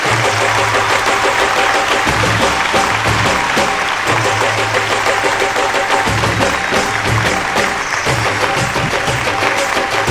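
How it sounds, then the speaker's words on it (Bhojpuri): Loud, steady audience applause fills the whole stretch, welcoming a guest judge onto the stage of a singing competition show, with a low musical hum beneath the clapping. "तो जोरदार ताली से स्वागत करें जा"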